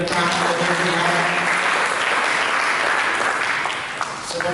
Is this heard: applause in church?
yes